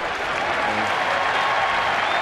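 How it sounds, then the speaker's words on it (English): Baseball fans at a stadium game between Oakland and San Francisco applaud and cheer, a loud, steady roar of clapping and voices filling the whole moment. "But the fans are cheering him on."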